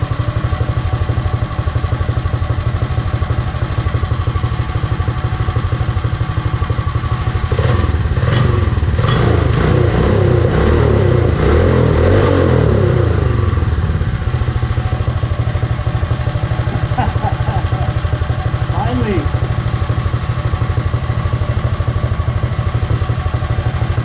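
A Predator 212 small gasoline engine with a CDI performance ignition runs steadily and loudly throughout, belt off, with a burst of clattering and thumping in the middle before settling back to an even drone.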